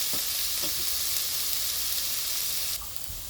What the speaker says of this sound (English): I'm nicely going to roast it together so that the flavor of the dry spices comes out.